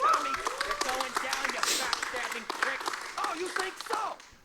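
Scattered clapping from a crowd at a speedrunning marathon event rises and falls beneath a speaking voice, moderately loud and close, with the speech carrying over the applause.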